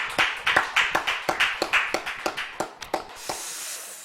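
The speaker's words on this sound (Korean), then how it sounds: "하나님께 영광의 박수 우리 올려드리겠습니다" Congregation applause at a Friday late-night prayer service in a church, a run of sharp, fairly regular claps from a modest group that fades out into room hiss after about three seconds.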